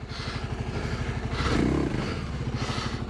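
A 2024 Kawasaki KLX 300 dual-sport dirt bike being pushed out of mud on a North Carolina trail, its engine running in a steady low rhythmic putter with a brief swell of revving and clatter midway, close and fairly loud, no talk.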